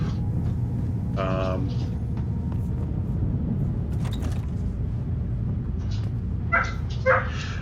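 Several dogs bark and yip indoors in short bursts, a few sharp barks early and more near the end, over a steady low background rumble.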